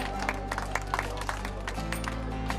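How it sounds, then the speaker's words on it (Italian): Brief applause at a 2014 market-stall event, quiet scattered clapping over a steady low hum for just under three seconds. "un applauso al numero 30"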